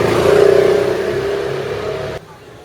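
A motorcycle engine running while its coolant system is being bled, a loud steady mechanical whir close by that cuts off abruptly near the end.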